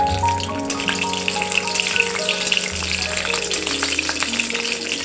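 Dried red chillies and bay leaves sizzle and crackle in a small amount of hot oil, a close, steady frying hiss that holds throughout, with a low hum underneath and no talking.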